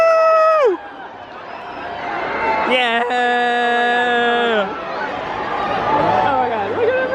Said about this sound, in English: Oh my god, look at everybody cheering!